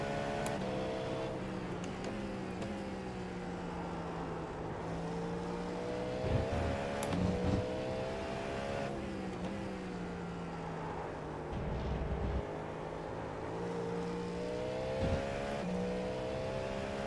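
Cadillac LMDH prototype race car engine in the iRacing sim at Watkins Glen, a steady droning roar that rises and falls with shifts and revs, continuous and fairly close, with no talk over it.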